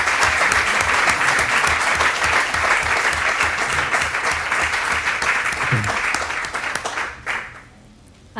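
An audience at a seminar's inaugural lecture applauds to send off a speaker, with loud, sustained clapping that tapers and cuts out near the end.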